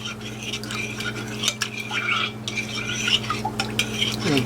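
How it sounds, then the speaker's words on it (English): A spoon stirs a yeast and Splenda mixture with boiling water in a bowl, giving soft repeated scraping and light clinks over a steady low hum. "And we add that to our yeast and Splenda. We stir this around."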